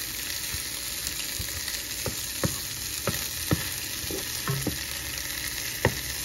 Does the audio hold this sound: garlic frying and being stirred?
yes